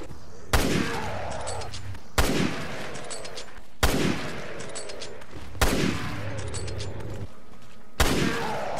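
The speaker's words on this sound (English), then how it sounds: "one shot from the M1891 to take down a rotten" M1891/30 bolt-action rifle shots in Resident Evil Revelations 2, five loud sharp reports spaced evenly about every one and a half seconds, each followed by a brief mechanical tail, with no speech.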